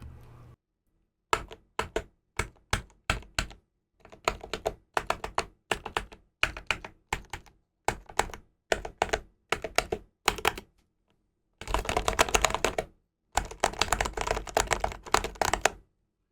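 Buttons clack on a handmade wooden leverless game controller, with quick clusters of sharp taps and clicks followed by rapid mashing bursts, close and fairly quiet with no talking.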